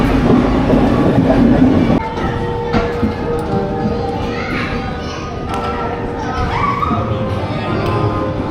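A train rumbles past right beside a Hanuman temple at Itarsi, a loud close rolling clatter that fills the scene, with children's voices and other chatter mixed in.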